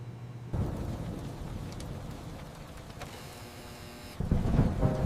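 Steady rain hisses through a thunderstorm, with low rumbling underneath and a sudden louder surge near the end; no voices.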